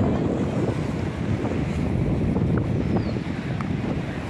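Sea water washing at the shore beside a spot thick with oysters, a continuous broadband wash heavily mixed with wind buffeting the microphone, no distinct wave breaks standing out.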